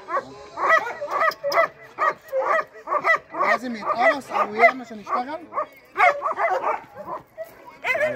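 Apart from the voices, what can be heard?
anxious dog whimpering and barking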